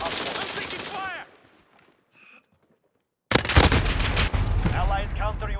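Gunfire in Call of Duty: Modern Warfare multiplayer, a loud sustained burst of rapid automatic shots after a brief quiet gap, with voice callouts heard before and during the firing.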